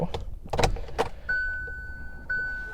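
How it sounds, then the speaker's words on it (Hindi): Ignition of a 2023 Hyundai i20 Magna switched on, with a few close clicks and key jangles followed by a steady electronic chime tone that restarts once, quiet and alone in the cabin. "एक बार इग्निशन में ऑन कर देता हूँ।"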